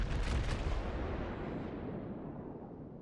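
The Yamato battleship fires its main guns in the naval game World of Warships: one heavy, booming salvo that rolls and slowly fades over several seconds, with no talk.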